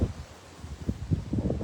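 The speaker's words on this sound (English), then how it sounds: "Very windy today, not ideal." Wind gusts and buffets outdoors on a blustery day, with low rumbling bursts and a soft rustle that swell and fade irregularly over a couple of seconds.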